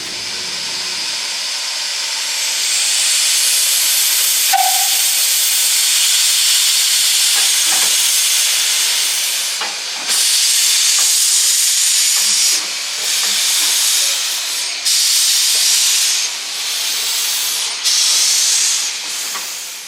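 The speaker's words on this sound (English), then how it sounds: "The locomotive that will be hauling the carriages today is a famous Mount Lyell Abt Locomotive No. 1" Mount Lyell Abt rack steam locomotive No. 1 on Tasmania's West Coast Wilderness Railway releasing a loud, sustained hiss of steam, broken by repeated bursts and short pauses, with faint clanks underneath.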